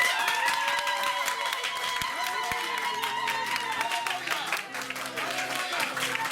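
A church congregation gives a sustained ovation, clapping and cheering together in a busy, continuous crowd sound, with a few sharp percussive knocks and a low tone running beneath.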